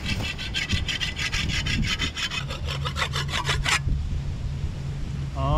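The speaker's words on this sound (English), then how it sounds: "This machete is super rusty, so we'll try to sharpen it. This rock is pretty smooth, so that should work pretty well." A rusty machete scraped against a smooth rock to sharpen it, rapid rhythmic back-and-forth grinding strokes, loud and close, running steadily for several seconds before stopping abruptly.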